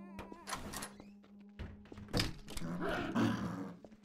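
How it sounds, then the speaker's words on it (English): Half-Life 2 zombie groans and growls in a horror mod game, low rough moans mixed with heavy thumps and game effects, fairly loud and close. "I hear a zombie."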